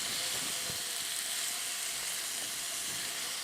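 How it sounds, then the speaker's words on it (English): Bell peppers of several colors stir-frying in a pot for fajitas, a steady close sizzle with a few soft stirring knocks and no voices. "we're just going to kind of stir fry these"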